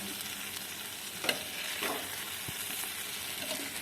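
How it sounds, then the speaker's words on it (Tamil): Egg masala is frying and roasting in a pan with a dense, continuous sizzle, close and steady. Occasional scraping stirs of a spoon run through it, with no talking. "இப்படி நல்லா வறுத்து விட்டுருங்க."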